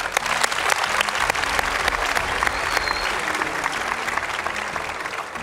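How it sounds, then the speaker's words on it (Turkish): A television talent show audience gives strong applause after a telepathy act, a loud, dense crowd of clapping with sharp individual claps standing out, sustained throughout. "Eser Bey'e kuvvetli bir alkış"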